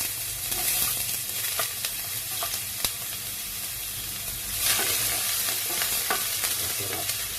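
Chopped ginger sizzles in a hot pan while being stirred for a laing with anchovies, a steady close frying hiss broken by sharp scraping clicks of the utensil.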